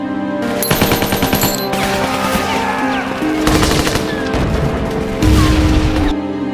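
Sustained bursts of rapid machine-gun fire and gunshots from a war film battle scene, with German soldiers firing down from a hilltop on attacking French troops. The loud rattling volleys come in several blocks separated by brief pauses.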